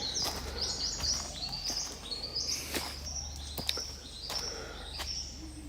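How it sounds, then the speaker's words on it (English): A colourful dove coos softly in the background of Tooloom National Park forest, among bright repeated chirps and calls of other birds, with no voices. "So if you can hear the cooing sound in the background, it's actually a very colourful dove that lives here."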